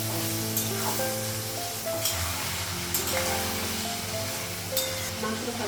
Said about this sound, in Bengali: মাংসটা ভেজে নিই, তারপর মশলাগুলো লাগাবো